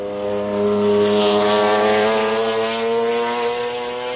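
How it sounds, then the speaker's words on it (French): A Lister race car spins at the 1995 24 Hours of Le Mans amid loud, droning engine tones with a rising and falling harmonic whine. The car holds a sustained, fairly close roar for a few seconds. "On revoit ce tête-à-queue de la Lister."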